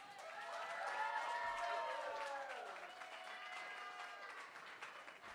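An audience at a poetry slam claps and cheers in a steady, broad wash of applause that swells early and then slowly tapers, with some voices rising above it.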